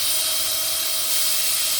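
A power drill fitted with a brush spins against the auger shafts of a Honda HSS snowblower, giving a steady, loud, high-pitched whine that holds constant throughout.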